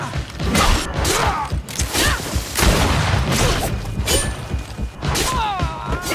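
Heavy thuds and crashes of a grenade blast in the game Greedfall, several loud bursts spread across the moment amid combat noise and a brief voice.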